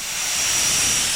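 A Kobalt air compressor releases air in a loud, steady hiss, close and continuous for just over a second, with no speech.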